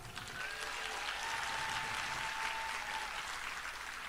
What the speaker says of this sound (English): Shall we give them a big applause?